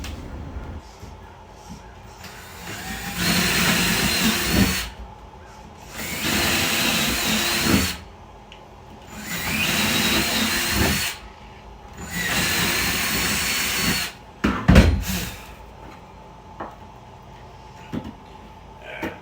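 An aging Ryobi cordless power drill runs in four long bursts separated by short pauses, loud and close, followed by a few knocks and quieter handling sounds.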